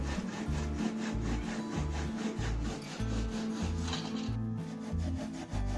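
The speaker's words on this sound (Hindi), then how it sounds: "ये हेक्सा ब्लेड से मैं कट कर रहा हूँ।" A hacksaw blade cuts through wood for a handmade bird house in steady, rhythmic back-and-forth strokes, close and loud, with no talking.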